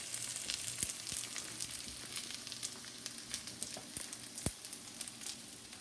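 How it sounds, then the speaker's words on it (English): Food for Lacy cornbread fries in hot grease in a home kitchen, a continuous bright crackling sizzle with scattered pops and sharper snaps, close and steady with no talking. "You see how it sizzles?"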